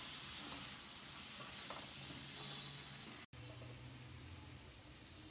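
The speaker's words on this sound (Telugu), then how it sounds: "లో ఫ్లేమ్లో మనం వీటిని ఫ్రై చేసుకుంటూ ఉండాలి" Beetroot slices fry over a low flame in a pan with tempering spices, giving a steady soft hiss with occasional stirring scrapes and a brief dropout partway through.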